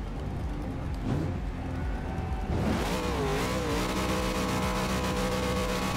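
A car engine in a Forza racing video game revs and climbs in pitch, rising whines layered over a loud, continuous motor roar, with no voices.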